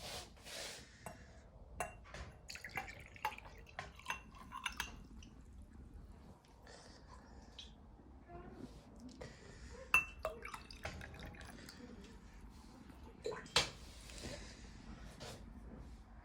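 Quiet warm apple, cherry and rosehip compote pouring into a glass, with soft trickles, drips and a few light glass clinks up close.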